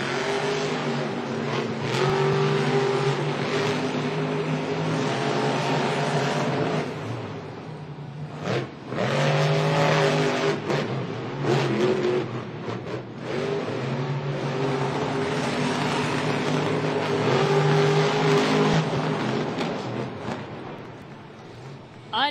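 Monster trucks race head-to-head in a stadium, their engines roaring loud and continuous with rising and falling revs, fading briefly and then surging again over crowd noise.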